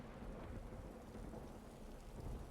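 Rain and rolling thunder in the Divinity Original Sin 2 game, a steady dense wash of rainfall with low rumbling underneath, continuous and fairly close for the whole stretch, with no talking.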